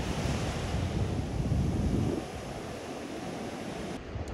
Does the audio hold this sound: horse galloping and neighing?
no